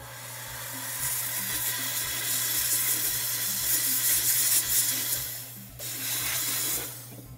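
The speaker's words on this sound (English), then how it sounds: "All right, let me rinse this off, steam it off." Steady hiss of a steamer blasting an acrylic denture clean, loud and close, with one brief pause before it resumes, over a faint mechanical hum and no talking.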